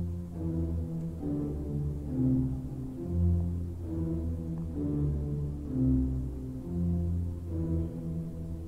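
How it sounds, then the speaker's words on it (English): A low pipe organ pedal line from Widor's music, played in a church, repeats a steady rocking ostinato of deep sustained notes, moderately quiet and even throughout. "Here's an ostinato figure that appears in the second movement, also in the pedals."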